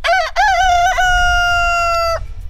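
A rooster crows loudly and close by in a backyard chicken setting, one drawn-out cock-a-doodle-doo with a clipped opening and a long sustained final note, no talking.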